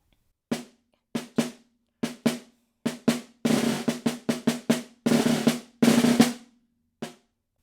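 Close snare drum strokes, sparse single hits at first, then denser bursts and short rolls building in intensity, ending with one final hit.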